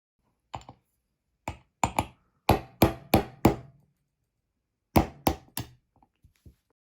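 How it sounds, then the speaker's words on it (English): Sharp metallic taps of a 1/16 inch punch driving the roll pin out of an AR-15 bolt on a bench block, arriving in irregular bursts of two to four strikes, close and fairly loud, with quiet gaps between. "Use 1/16 inch punch to get the roll pin out from the bolt."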